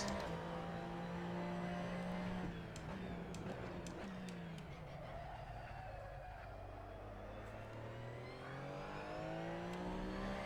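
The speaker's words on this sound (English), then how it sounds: "The engine note on this vehicle is quite good as well." A race car engine in the Assetto Corsa racing game drones and revs continuously, pitch climbing through gears with short dips at shifts, steady and moderately loud with no speech.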